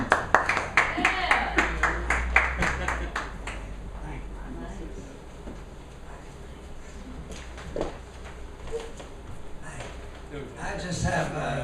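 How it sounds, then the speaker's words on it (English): Audience at an Austin poetry open mic claps in a quick round that is loud and close at first, then thins out and fades, after which a person speaks over faint room noise. "Let's have a round of applause for Gentle"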